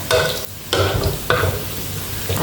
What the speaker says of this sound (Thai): ทอดหมูแต่เดียวค่ะ